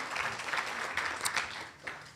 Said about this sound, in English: please give our panel a round of applause one more time